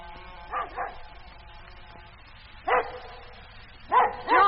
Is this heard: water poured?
no